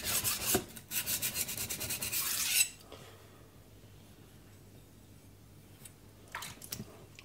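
Coarse 180 grit whetstone rasping under a Suehiro Debado knife, a quick run of close scraping strokes that stops abruptly, followed by quiet handling and a couple of faint rubs.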